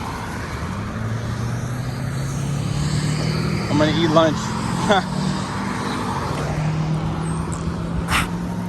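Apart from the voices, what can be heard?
highway traffic, cars passing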